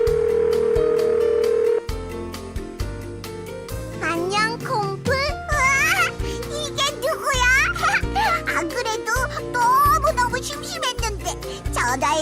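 A toy telephone in a kids' dinosaur phone-play game gives a steady tone after a number is dialed, set amid bright jingly electronic music with chimes, close and fairly loud throughout.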